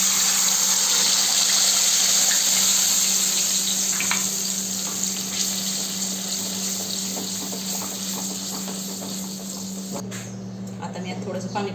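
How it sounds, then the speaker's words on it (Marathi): Onion-garlic paste with a bay leaf and cinnamon sizzles in hot oil in a pan, a loud steady hissing fry that eases slightly over time while someone talks. "आता तेल गरम झालं, त्याच्यामध्ये 1 तेजपत्ता, दालचिनी थोडंसं आणि पेस्ट केलेली कांदा लसूणची"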